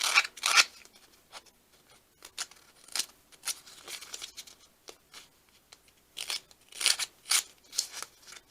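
A pair of scissors roughing up the pages of a small leather journal, making irregular scraping, rasping strokes in quick clusters with short pauses, close and moderately quiet.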